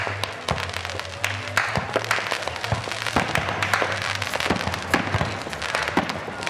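Fireworks go off down a beach in Darwin, a rapid, continuous crackle of pops and bangs heard from some distance over a low steady hum.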